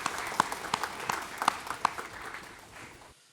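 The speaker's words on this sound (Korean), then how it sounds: "영광의 박수를 하나님께 드리겠습니다" Congregation applauding during a Sunday service in a church, a few sharper claps standing out in the steady clapping, which fades away toward the end into silence.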